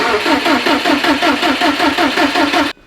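A built Subaru STI's engine cranks on its first start attempt, the starter churning in a fast, even rhythmic chug for nearly three seconds without catching, then cutting off abruptly; loud and close.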